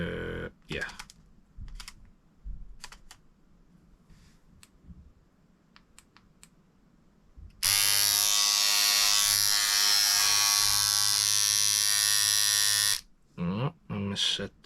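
Side Drive X tattoo machine running, a loud steady high buzz that starts abruptly partway through and cuts off after about five seconds, preceded by clicks and handling sounds with a person talking.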